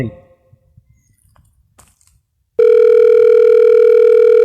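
A telephone dial tone starts abruptly partway through and holds as a loud, steady, unbroken hum after a few quiet handling noises.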